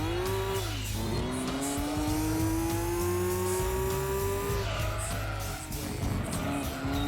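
Race car engine from Gran Turismo 2 holding a steady rising whine, with a tire squeal and skid as the car spins out mid-race in a GT500 championship, loud and continuous throughout.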